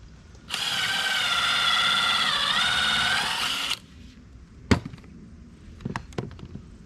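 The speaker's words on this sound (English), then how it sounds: "Countersink it." A power drill countersinks screw holes in wooden camper trusses, whining steadily and loudly for about three seconds before stopping. A few sharp knocks and clatters of handling follow.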